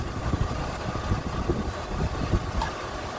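A car engine idles steadily in a parking lot with a stove set beside it, a constant low rumble close by and unbroken, with no talking.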